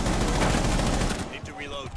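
Loud sustained automatic gunfire in a first-person shooter video game, a rapid stream of shots for over a second before tapering into quieter game sounds and faint voice.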